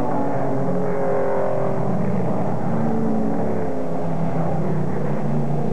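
1963 sports racing cars, among them a Porsche, speed through the carousel turn at Road America in an SCCA USRRC race. Loud, sustained engine roar with shifting pitch as several cars pass, with no talk.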